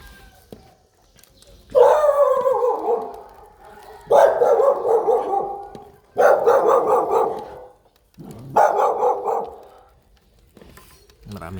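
Dogs chasing bark in four loud, spaced bursts, each a rapid flurry of overlapping barks, close by with brief quiet gaps between.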